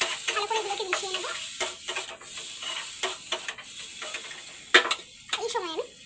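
A spoon scrapes and clinks in a pan as coriander and cumin powder are stirred in with turmeric for a paneer and pea ghugni, with irregular stirring strokes over a faint sizzle.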